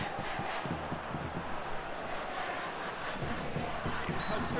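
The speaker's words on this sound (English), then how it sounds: "Crowd appreciates good football all round there." A stadium crowd in the PES 2021 football video game roars and cheers in a sustained, dense wash of voices, loud and continuous throughout.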